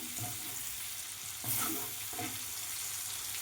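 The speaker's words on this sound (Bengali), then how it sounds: "কাঁচা লঙ্কাটা হালকা ভাজা হোক" Green chillies fry lightly in a pan for a Bengali peas dish (koraishuti kosha), giving a steady close sizzle with a couple of louder bursts as the pan is stirred.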